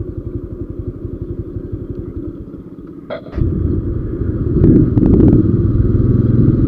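A motorcycle rides through Dhaka streets in the morning, its engine thumping in a fast close putter, then revving louder with rumbling road noise and a brief clatter.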